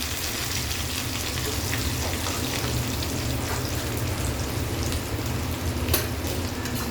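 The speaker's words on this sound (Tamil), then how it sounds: "ஒரு கை பெரிய வெங்காயமும் கருவேப்பிலையும் சேர்த்து நல்லா நம்ம இதில் சேர்த்துடலாம்." Onions and curry leaves sauté in hot oil in a pan, making a loud, dense, continuous sizzle like heavy rain. It stays close and even from start to finish, with no talking.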